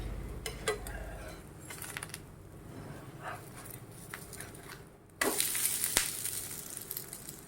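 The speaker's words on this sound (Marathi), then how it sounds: "थोडंसं कडणी आपल्याला तूप सोडायचं आहे तर आता चांगला भाजून घेऊया दोन मिनटं एका बाजूने" A fasting-style dosa roasting in ghee on a pan, a soft crackling sizzle with light utensil clicks, jumping to a louder brighter sizzle near the end.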